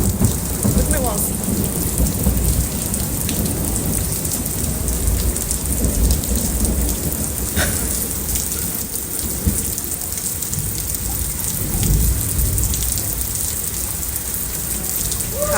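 Heavy thunderstorm with steady loud rain pounding on surfaces and deep rumbling thunder rolling through, continuous and close for the whole stretch.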